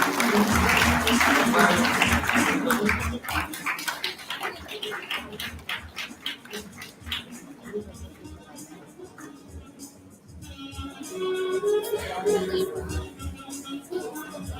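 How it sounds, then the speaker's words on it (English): Applause from an audience at a Teachers Day celebration, a crowd clapping loudly at first, then thinning out and rising again, with voices and other noise mixed in. "Please give a huge round of applause."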